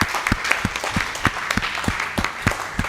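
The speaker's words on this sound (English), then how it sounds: "A big round of applause." Audience applause at a snooker final of the US Snooker Masters at a Sacramento snooker and billiards club, a steady round of clapping with distinct individual claps standing out near the microphone, sustained throughout.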